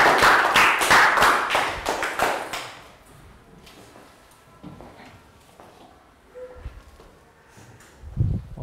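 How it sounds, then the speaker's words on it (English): A short burst of classroom clapping for a pupil in a Year 3 English lesson, a few seconds of rapid hands that stops abruptly, followed by quiet room noise and faint movement. "round of applause for Pat"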